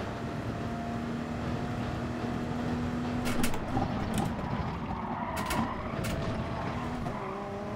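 Race car engines in Gran Turismo Sport drone loudly and continuously, with a sustained engine tone that shifts pitch as cars run close together in a slipstream, and brief sharper bursts midway; no talking.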